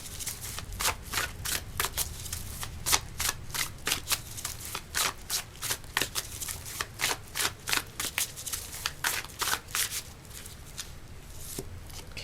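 Tarot cards shuffled and drawn for a pick-a-card reading, a close, rapid run of crisp flicking riffles and snaps that comes in bursts, with no talking over it.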